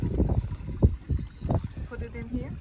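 Strong north wind buffets an inshore fishing boat off Mississippi, a steady low roar of gusts hitting the microphone in repeated bursts, with muffled voices underneath.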